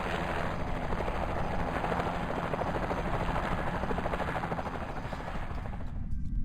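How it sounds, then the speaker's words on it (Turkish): A helicopter arriving in the video game Accident, its rotor a loud steady rhythmic thudding roar that holds for several seconds before cutting off abruptly. "Okey helikopter geldi."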